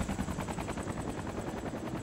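Helicopter rotor in the video game DayZ, a steady rhythmic chopping thrum heard fairly faintly and alone, with no talk.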